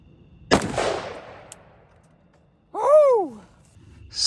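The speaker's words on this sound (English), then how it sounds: "Now to hit it with the 308 round out of an AR-10." A .308 round fired from a Sabre AR-10 rifle strikes an armor plate: one loud, sharp shot with a decaying tail, and a separate whistling, gliding tone follows about two seconds later.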